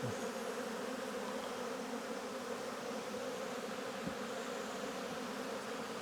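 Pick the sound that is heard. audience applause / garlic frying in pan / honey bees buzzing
honey bees buzzing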